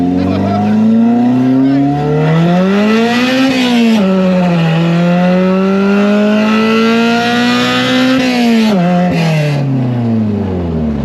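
A 1990 Honda Civic EF hatchback engine revs loud and close at three-quarter throttle, its pitch rising and falling in long sweeps with a dip near the end.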